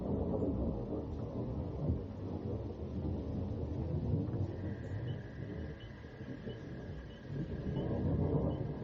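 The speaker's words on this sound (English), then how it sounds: "The roar of the storm escalated until they seemed to be inside the rumbling machinery" A summer thunderstorm, with deep continuous rumbling thunder and steady rain filling the air at a low, distant level, and a faint sustained tone drifting through the middle stretch.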